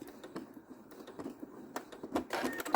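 A sewing machine stitches back across a scrap-fabric key fob with a shortened stitch length, giving a rapid, uneven run of close mechanical ticks and clatter that grows louder and busier toward the end, with no voices.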